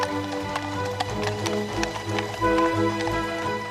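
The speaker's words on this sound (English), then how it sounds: "23 horses from the Queen's stables are now joined by 108 from the Household Cavalry, 75 from the King's Troop" Many horses' hooves clip-clop in a royal carriage procession leaving the palace, with horses from the Queen's stables, the Household Cavalry and the King's Troop; a steady, overlapping run of hoof strikes sounds close and continuous over street ambience.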